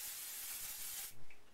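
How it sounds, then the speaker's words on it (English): Aerosol spray misted onto the back of a cut card for a card-making project, one steady broad hiss lasting about a second before cutting off abruptly, close and fairly quiet. "So, spray the back."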